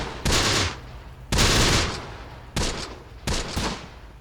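Gunfire in the WWII strategy game Close Combat: The Bloody First, four loud, sharp cannon or gun blasts spaced about a second apart, each with a short rumbling decay, no talking.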